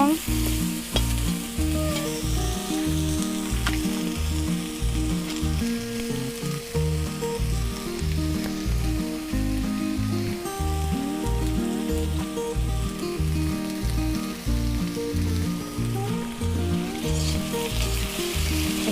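Rohu fish pieces frying in hot oil for a jhinge ridge gourd fish curry, a steady loud sizzle and crackle running continuously alongside a constant patterned tonal background.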